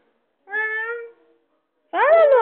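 A single drawn-out meow sounds up close and clear, followed after a short pause by a second, wavering meow-like call that cuts off abruptly.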